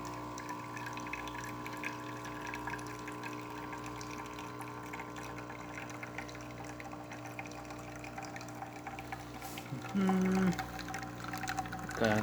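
Water runs steadily from a Saeco espresso machine after a full service, a continuous pump hum and trickle throughout, with a brief louder tonal burst near the end.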